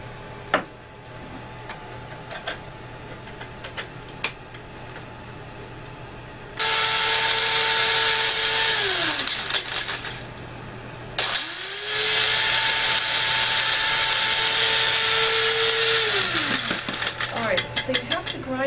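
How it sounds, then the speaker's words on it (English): An electric spice grinder blitzes long pepper into powder in two long, loud bursts, its motor whine rising then falling away, separated by a short pause. "I'm going to grind all of that because we're making a double batch."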